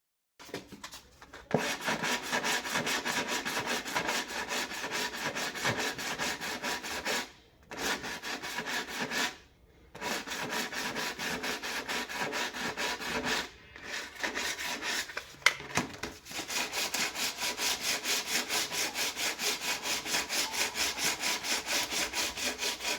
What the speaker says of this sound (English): We let it dry for a while and then start sanding it again.